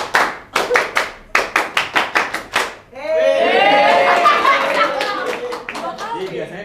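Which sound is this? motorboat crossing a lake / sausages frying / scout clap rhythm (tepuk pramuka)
scout clap rhythm (tepuk pramuka)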